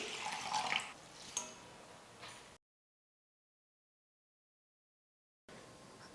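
Raw rice and urad dal washed in water, with splashing and swishing at the start that settles into softer trickling, then a stretch of silence before faint sounds resume.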